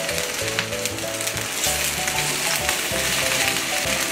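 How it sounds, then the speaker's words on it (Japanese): Ginger pork fries in salad oil in a frying pan over medium heat, giving a dense, continuous close sizzle with faint crackles and no voices. "そしたらフライパンがありますのでこっちで焼いていきます"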